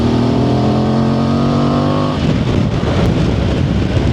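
A Voge DS800X motorcycle engine heard while riding, a steady loud drone that holds a constant tone, then shifts to a rougher, noisier rumble with wind as the revs change, with no talking.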